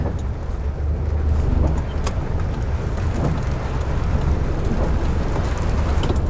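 Heavy rain pours steadily, heard from inside a small crane truck, with a dense, even hiss over a low engine rumble and no talking.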